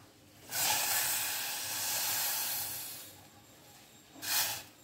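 A gas stove burner hisses steadily and loudly at close range while sugar syrup heats, fading out and then flaring again in a short burst.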